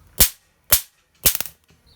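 A homemade electric gas lighter snaps out sharp sparks near a gas burner: two single clicks, then a quick cluster of several clicks, loud and close with no speech.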